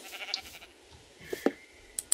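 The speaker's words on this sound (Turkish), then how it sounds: "Oo koyun. Koyun." Sheep in the Minecraft video game give a few short, fairly quiet bleats, clustered near the end.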